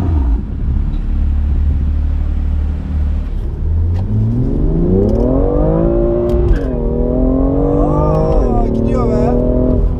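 A BMW M2 on a race track accelerates hard, its engine note climbing steadily through the revs with a brief dip at a gear change, loud and close from inside the car, with a voice speaking over it.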